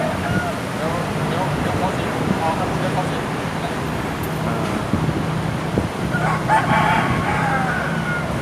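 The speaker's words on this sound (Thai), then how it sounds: "ได้ยินเสียงไก่ไหมไก่ขันเนี่ย" A rooster crows outdoors near a chicken delivery truck, its call carrying over steady wind noise and murmuring voices in the background.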